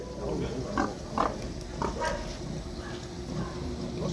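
A pig visiting a house grunts several times in short bursts, moderately close, over steady indoor background noise with faint voices nearby.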